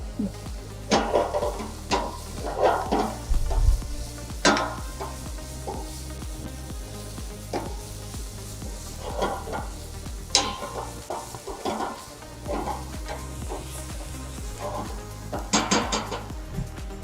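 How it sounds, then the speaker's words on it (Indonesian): Sauce stirred in a pan over a soft sizzle, with repeated spoon scrapes and occasional clinks against the metal at an uneven pace, close and fairly quiet. "Diaduk sampai rata."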